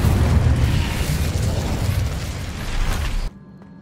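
A fire spell cast in the video game Hogwarts Legacy, a loud, sustained burst of roaring, crackling fiery noise lasting a few seconds before cutting off abruptly into near silence.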